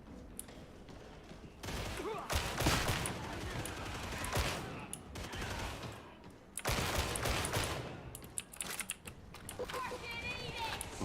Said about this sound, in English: he has his recon las gun and he's just lasering everything down the second he sees it